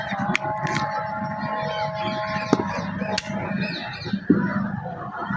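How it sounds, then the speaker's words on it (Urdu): A parrot gives a few sharp, brief calls at a cricket ground as the pitch is rolled, standing out over steady outdoor rumble and faint murmuring voices. "طوطے کی آواز آ رہی ہے"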